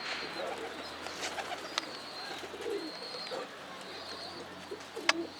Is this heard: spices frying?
no